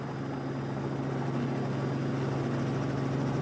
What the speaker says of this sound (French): Pour y arriver, 2 avions, 20 heures de voyage et maintenant un hélicoptère.